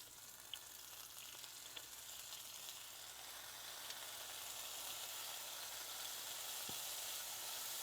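Steak bites searing in a hot pan on a stove set a little below medium: a soft, continuous frying hiss that slowly builds in loudness, with a couple of faint clicks.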